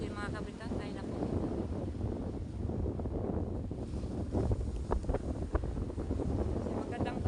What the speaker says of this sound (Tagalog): lumalakas na ano, malakas na po yung hangin.